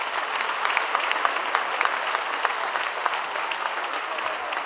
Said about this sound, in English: I want you guys to have a big round of applause for all Podarites sitting here.